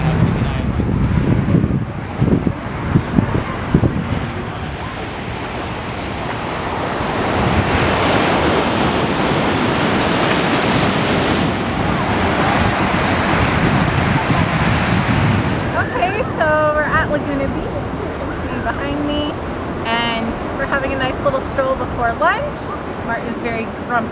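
Ocean surf at Laguna Beach, California, with a steady wash of breaking waves and wind buffeting the microphone, plus faint chirping bird-like calls near the end.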